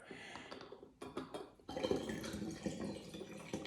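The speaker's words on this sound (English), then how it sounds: "And so now I'm gonna add water." Water poured into a plastic bottle to make an ocean bottle, beginning with a few splashy drips and bursts and then settling into a steady, close trickling fill.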